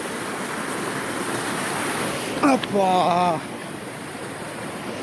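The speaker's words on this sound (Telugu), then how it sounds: "full పారుతున్నది water" A waterfall's rushing water roars steadily as a broad, noisy wash, with a brief spoken exclamation partway through.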